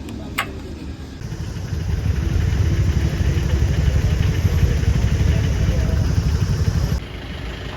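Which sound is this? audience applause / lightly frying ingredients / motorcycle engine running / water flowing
motorcycle engine running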